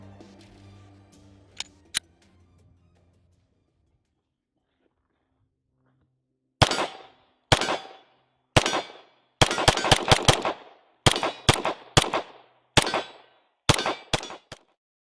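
A Glock 19 Gen 4 handgun fires about a dozen sharp, loud shots in uneven quick succession outdoors at a range, following a few faint clicks and a quiet pause.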